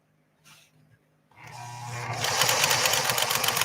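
A PFAFF 360 sewing machine under repair is started from its original foot controller: after a couple of brief soft whirs it spins up into a loud, steady mechanical hum and rattle that keeps going.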